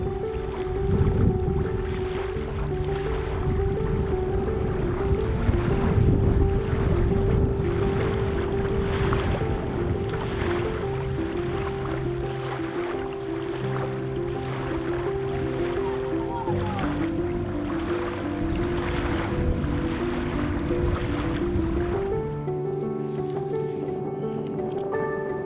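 A canoe moves up an unnamed creek in the wilderness, with steady water rush and paddle strokes under a continuous low hum throughout, and a voice talking partway through.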